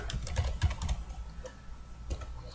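Typing on a computer keyboard, a close, uneven run of light clicks and taps with short pauses between bursts.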